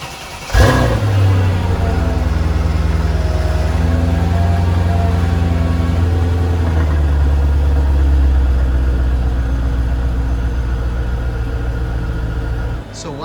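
A Mercedes-Benz R230 SL500 convertible's V8 starts with a sharp catch, then rumbles low and steady close by as it drives, the engine tone shifting slightly before tapering off at the end.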